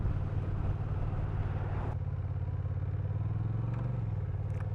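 A 2021 Honda Rebel DCT motorcycle riding along, its engine droning loud and steady, with a clear automatic gear change partway through after which the pitch drops and settles into a lower rumble, plus wind noise.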